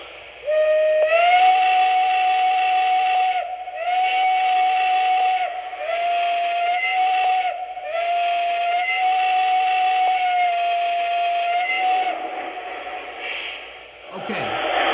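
A Lionel model train whistle sounds one steady, loud note, broken into five long blasts with short gaps, alone and close, ending in a brief clatter.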